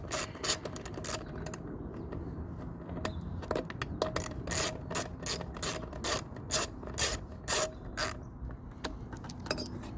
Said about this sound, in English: Here we go, we're on the last bolt.